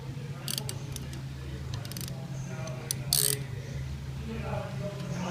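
A wrench cranking bolts tight on a belt drive pressure washer pump, soft ratcheting clicks in a few short bursts over a low steady hum, close and fairly quiet.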